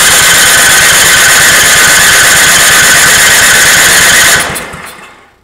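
An Ariens snowblower engine cranks over and over without firing, a loud steady churning rhythm that runs for several seconds before dropping away at the end.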